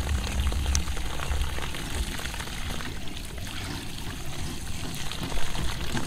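Water flowing from the output pipe of a free-energy pump drawing from a river for a rice field, a continuous rushing trickle with no break, moderately loud and alone.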